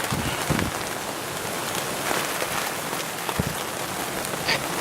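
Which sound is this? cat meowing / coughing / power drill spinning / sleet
sleet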